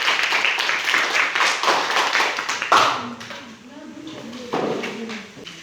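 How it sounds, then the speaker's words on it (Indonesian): Children in a classroom clap for group 1 in a quick, loose patter of claps. A voice speaks during the clapping, and after it stops, speech continues over quieter background. "Kita tepuk tangan untuk kelompok 1."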